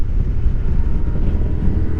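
Easterly wind buffeting a microphone outdoors beside a Honda NC750XA motorcycle, a steady low rumbling roar throughout with no talk.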